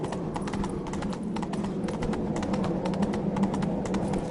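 Steady, rhythmic hoofbeats of a horse clip-clop throughout a PS4 video game, with a constant low background ambience and bird-like chirps faintly mixed in.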